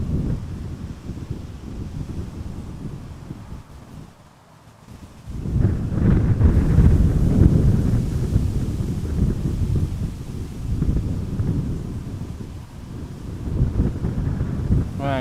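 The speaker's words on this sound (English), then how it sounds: "Yes, the wind has increased to 18 knots right now." Strong gusting wind at Amsterdam Schiphol Airport buffets the microphone in heavy low rumbling roars, dropping briefly before surging back loud and sustained.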